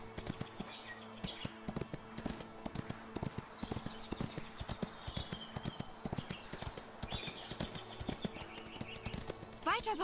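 Horse hooves clatter in a rapid, steady galloping rhythm in the Ostwind video game, close and continuous, with a brief neigh near the end and a player talking over it.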